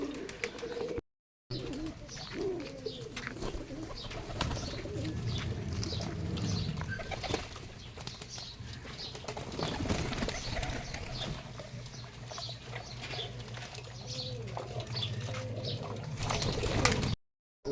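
Pigeons, including Pakistani and local breeds, coo in low murmurs and flap their wings in short bursts, close by, with someone speaking at times amid the birds.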